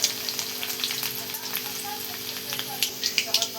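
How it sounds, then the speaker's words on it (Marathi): Mustard seeds, garlic and cumin sizzling and crackling steadily in hot oil, a dense close hiss with small pops growing sharper toward the end, no talking. "आणि बघा इथं मोहरी टाकून घेतली थोडीशी मी तेलामध्ये"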